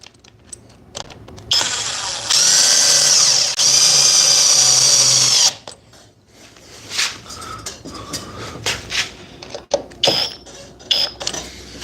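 Cordless impact driver sinking a 4-inch T25 screw: a loud, close whine with rapid hammering runs about three seconds with a brief break, then stops, followed by scattered clattering and handling knocks.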